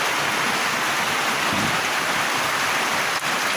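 Heavy rain pours down after hours of cloudy, rumbling skies, a dense, unbroken roar of water that stays loud and steady throughout.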